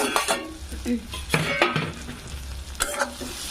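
Curried kochur loti (taro stolons) stirred in a pan, with a spoon scraping and clinking against the metal in a few uneven strokes over a soft background sizzle, close and moderately loud.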